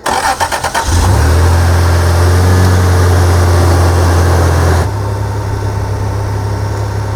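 A car engine with a freshly reconnected fuel injector cranks briefly in rapid chugs, then catches and roars loudly at a steady high idle before dropping to a quieter, even idle; no one speaks.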